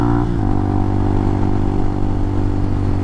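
Motorcycle engine at the Isle of Man TT, a loud, steady droning hum that holds close and constant throughout, with a slight shift in pitch near the start and no talking.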